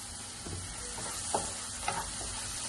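Ginger, garlic and tomato paste sizzles in a pan with a steady soft crackle, broken by a few faint scraping stirs and two light clicks, and no talking.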